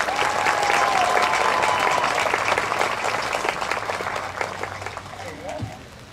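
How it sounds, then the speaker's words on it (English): Audience applause at a 2023 high school commencement ceremony, a dense sustained wash of clapping that gradually fades, with a few voices and a brief whistle-like tone above it. "one more round of applause."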